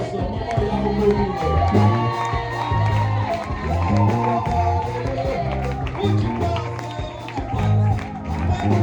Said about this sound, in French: Tu vas aussi ovationner Dieu pour la vie de la servante de Dieu, la prophétesse, Maman Yaoumou.